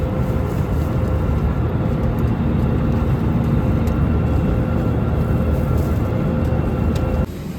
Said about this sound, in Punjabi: ਜਹਾਜ਼ ਹੋ ਗਿਆ ਆਪਣਾ ਲੈਂਡ